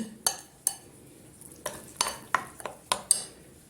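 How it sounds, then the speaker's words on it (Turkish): A spoon stirs a flour and water mixture in a bowl, making a series of light, sharp clinks and scrapes against the side at an uneven pace, close and quiet with no talking. "Arta kalan suyumu da ilave edip güzelce karıştırıyorum."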